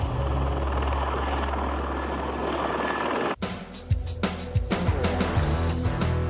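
A helicopter in flight, its steady rotor and engine drone holding loud and constant for over three seconds before an abrupt cut to a busier passage of engine noise and sharp bursts.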